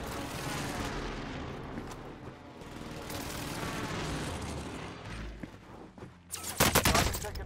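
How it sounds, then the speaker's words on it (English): Airstrike explosions and gunfire in Call of Duty: Warzone on Rebirth Island: a sustained roar of dense, rumbling blasts and crackling shots, ending in a sharp, loud burst of close heavy fire. "How about an airstrike here? This is Phoenix 3. Strike inbound."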